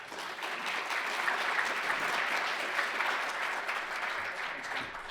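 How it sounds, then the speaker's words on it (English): A symposium audience applauds a speaker taking the stage, with steady, full clapping from a large room that holds for several seconds and thins slightly at the end. "Thanks for the applause"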